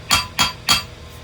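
A freshly forged steel hammer strikes steel three times at an even pace, each blow a sharp, bright, ringing clank that decays quickly, loud and close.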